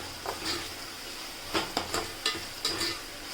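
A spoon stirs onion and tomato gravy cooking in a pan, with soft scraping strokes and a few sharper knocks against the metal over a low sizzle, close and fairly quiet with no talk.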